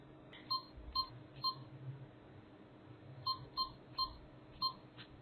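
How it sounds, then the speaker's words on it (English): Short electronic beeps from a Canon G7X camera's buttons, a group of three, a pause, then four more, spaced evenly against a quiet background hum. "going to have to turn that beeping off"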